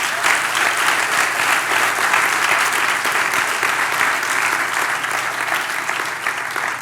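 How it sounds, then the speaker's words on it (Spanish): A church congregation breaks into sustained, dense applause that fills the room, loud and even from start to finish before tapering slightly at the end. "¿Le das un aplauso al Señor por eso?"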